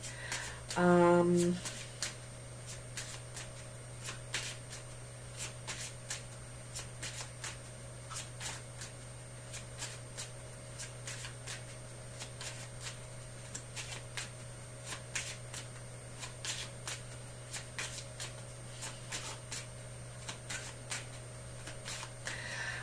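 Lenormand cards are shuffled by hand in a quiet room, with a short burst of handling at the start and then a run of soft, rapid card riffles and taps.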